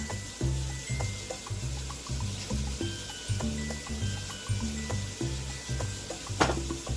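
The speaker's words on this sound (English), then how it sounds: "And let's stir this up." A spoon stirs macaroni and cheese sauce seasoned with garlic powder and paprika in a pot, making steady rhythmic scraping and sloshing strokes with a faint sizzle behind them.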